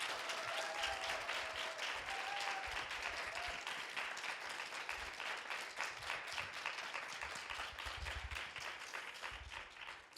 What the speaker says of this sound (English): give them a very strong, very warm applause